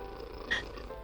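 A brief, soft cat purr in a visual-novel game, a quiet steady rumble with a slight swell at its midpoint.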